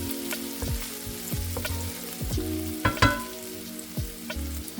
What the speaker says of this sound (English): Cook for about 2 minutes until the onion starts to be turning